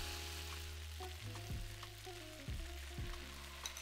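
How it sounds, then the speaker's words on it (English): Noodles fry in oil in a hot wok for pad see ew, cooked over high heat: a steady close sizzle with a few low knocks and clunks as the noodles are tossed. "Fry the noodles for 2 to 3 minutes over a high heat, tossing once or twice."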